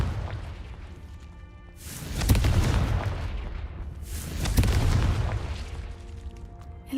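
Two booming Confringo blasting-spell explosions in a cave in Hogwarts Legacy, each a loud burst with a rolling rumble that fades before the next, heard alone.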